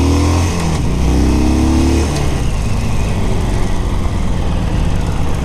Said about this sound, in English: this has a 1200cc engine,